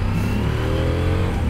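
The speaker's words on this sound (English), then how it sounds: "if we don't start the pros with that exhaust note, then I don't know what we start with" A 2023 CFMOTO Ibex 800 T motorcycle with its stock exhaust revs loudly and close up, one sustained throaty engine note that swells and falls back, with no voices over it.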